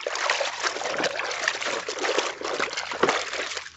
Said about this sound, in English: I'm going to put it in the rinse water.